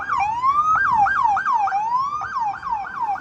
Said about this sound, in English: And here comes another siren.